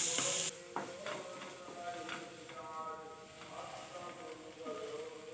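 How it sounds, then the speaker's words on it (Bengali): Onions frying in a pan, a soft steady sizzle with light stirring scrapes and clinks, faint and close, preceded by a short burst of hiss at the start. "পেঁয়াজগুলো ভেজে নিচ্ছি এখন।"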